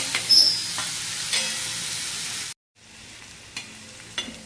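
Onion sizzling in a pan for a rustic moong dal chutney, a steady broadband hiss with a few soft stirring scrapes and a brief silent gap midway, moderately loud and close, no talking.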